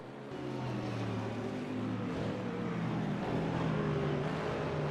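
GT3 race cars, a Corvette and a BMW, running close together at Salzburgring in a racing video game, give a steady, loud engine drone with rising and falling pitch as they swap positions, sustained throughout.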